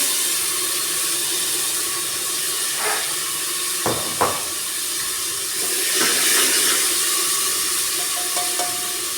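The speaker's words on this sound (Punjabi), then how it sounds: "ਆਪਾਂ ਇਹਦੇ ਵਿੱਚ ਹੀ ਹਰੀ ਮਿਰਚ ਕੱਟ ਲਈ ਆ ਬਰੀਕ ਬਰੀਕ ਕਰਕੇ ਤੇ ਇਹਨਾਂ ਨੂੰ ਹੁਣ ਆਪਾਂ ਵਿੱਚ ਪਾ ਦਾਂਗੇ" Finely chopped green chilies hit a pan of softened frying onions for an aloo baingan dish, giving a steady, even sizzle and hiss throughout, with a few brief clinks and stirs on top.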